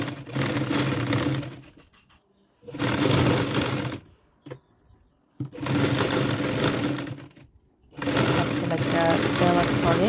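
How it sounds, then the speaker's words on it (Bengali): A sewing machine stitching a sleeve in loud, rapid rattling runs of about one and a half to two seconds each, split by short pauses, with a faint click between bursts. "সাবসেলাইটা দিয়ে নিচ্ছি।"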